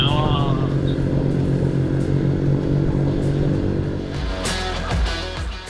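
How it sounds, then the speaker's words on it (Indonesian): A motorcycle engine braking on a steep downhill gives a steady, loud, close low drone that shifts pitch and settles toward the end, with wind rush and road clatter, while riders talk over it. "Pakai engine brake, Vi. Ya, ini udah T2 nih. Udah. Ngegerung ya?"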